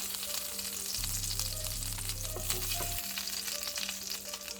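Sausage sizzles and fries steadily in a pan, with a dense crackle that holds throughout and a low hum of cooking in the background.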